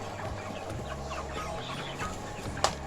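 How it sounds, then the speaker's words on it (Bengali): Many chickens on a poultry farm cluck and murmur together in a continuous close chorus. Scattered individual calls rise above the flock, and there is one sharp louder note near the end. "দেখতে পাচ্ছি অসংখ্য মুরগি এখানে"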